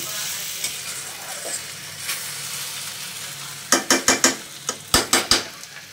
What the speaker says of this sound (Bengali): আমার মেয়ে ভেন্ডি ভাজি করতেছে